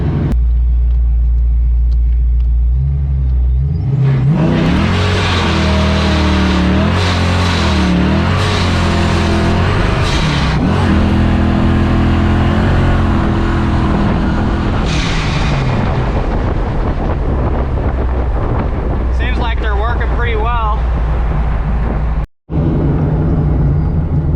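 Ford Mustang accelerating hard through its gears during testing, a loud deep engine roar rising and shifting with several gear changes, ending in a brief cutoff.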